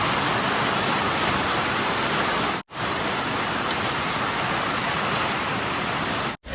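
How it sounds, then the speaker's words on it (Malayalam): Heavy rain falls steadily outside a school, a loud continuous wash of drops broken by two brief cuts, with no one speaking. "ചെറുതായിട്ട് മഴ ഇപ്പോൾ കുറഞ്ഞിട്ടുണ്ട്"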